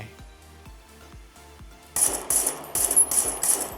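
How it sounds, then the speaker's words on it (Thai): Metallic tinkling of spent bullet casings dropping, many small clinks in rapid bursts over rhythmic thudding video game gunfire, played through an MSI Stealth 16 Studio laptop's speakers, growing louder partway through. "ได้ยินเสียงแบบกระสุนตกอยู่แถวด้านล่างด้านล่างคีย์บอร์ดเลยนะ"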